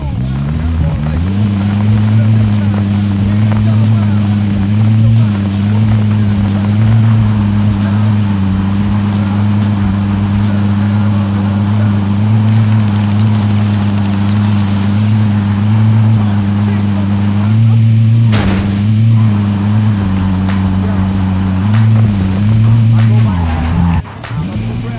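A vehicle driving in Call of Duty Warzone, a loud, steady engine drone held throughout under game sounds and radio-style voice chatter.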